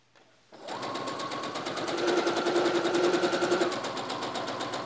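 An electric sewing machine runs steadily, stitching the shoulder seam of a backless frock with lining and bodice layered together. Its fast, even, motor-driven rattle is close and continuous after a brief quiet start, with no talk.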